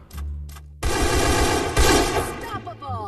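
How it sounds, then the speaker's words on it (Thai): MP5 submachine gun fire in the shooter game Free Fire: a pause after a couple of short shots, then sustained rapid automatic bursts, loud and close, with a faint voice underneath. "นี่เราก็เก็บโบย่าไปกับ ปืน MP5 ก็ต้องจัดอะ"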